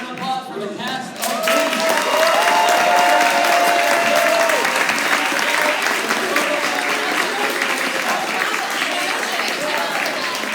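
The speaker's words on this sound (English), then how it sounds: "a round of applause for the cast of" Convention audience at a comic con panel bursting into loud, sustained applause and cheering for the anime voice cast, dense clapping filling the room after a brief spoken lead-in, with scattered voices and whoops mixed in.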